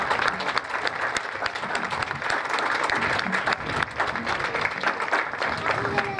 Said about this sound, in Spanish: El aplauso de ustedes para el izamiento